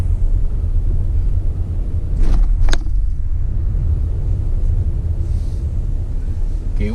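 A Toyota Corolla Cross 1.8G with a 1.8 liter engine driving on urban streets, a steady low engine and road rumble from inside the cabin, with brief clicks and someone talking over it.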